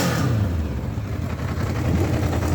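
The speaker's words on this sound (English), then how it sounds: "Let's give the bike a little rev so you can get an idea of what it sounds like." Yamaha XJ600 Diversion motorcycle engine revving up from a rumbling idle, loud and close, a steady mid-pitched growl rising and easing across a couple of seconds with no voices.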